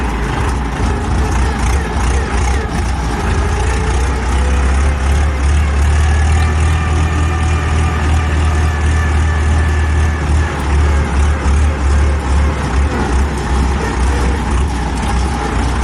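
A Deutz 6207 tractor with an F4L912 air-cooled diesel engine drives a loop in a driveway, its loud low, rumbling engine running continuously and close throughout, with slight rises in throttle.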